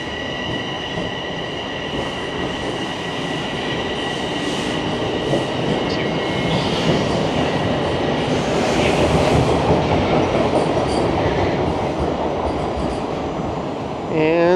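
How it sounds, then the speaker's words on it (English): A subway train pulls out of a Toronto station, a loud, close rumble of wheels and cars with squealing metal and rhythmic clatter building and holding throughout, faint talk beneath. "I'll just wait for this train to pull out here as it can be a bit noisy"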